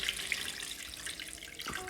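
Water is poured and swirled while changing the soaking water of rice for anarse, a steady close splashing and running-water wash with no talk.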